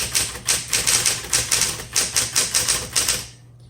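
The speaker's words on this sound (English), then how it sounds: "let's keep typing" Fast, regular keystrokes strike a 1960s Smith Corona Electra 120 electric typewriter, a close, crisp clatter of about a dozen hits that stops before the end over a low motor hum.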